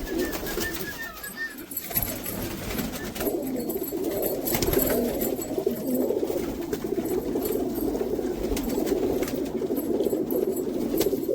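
Several pigeons in a loft in America coo in overlapping low throaty rolls, close and continuous, with a brief rustle near the start and no talking.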